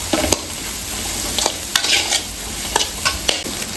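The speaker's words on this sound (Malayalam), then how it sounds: "ഇത്രയും പഞ്ചസാര അതും കൂടി ഇട്ട് അതിൻ്റെ കൂടെ ഒന്ന് ഇളക്കുക" A spoon scrapes and knocks around a pan as sugar is stirred into a sizzling mixture, the strokes coming in irregular bursts over a constant frying hiss.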